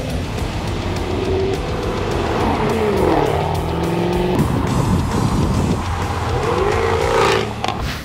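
A modified carbon fiber sports car inspired by the D-Type, tuned for more horsepower and a louder exhaust, roars steadily at close range on a concours lawn, its engine pitch rising and falling through revs with no talk over it.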